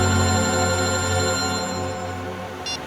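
A telephone rings steadily for a few seconds in a tense indoor drama scene, a loud, sustained electronic ringing tone with many harmonics that fades slightly toward the end, with no one speaking.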